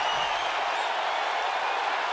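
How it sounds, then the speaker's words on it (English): A wrestling arena crowd roars and cheers in a dense, continuous wash of noise, loud and unbroken throughout. "This crowd never doubted The Rock's ability to get back in this thing"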